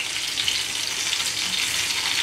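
Meat cutlets frying in a pan, giving a close, steady hiss and crackle of sizzling oil that runs without a break.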